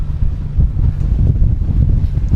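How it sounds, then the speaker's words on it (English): Steady wind buffeting a microphone aboard a Jones Brothers bateau boat on open water, a low rumbling roar with no pauses. "It's a little windy out here."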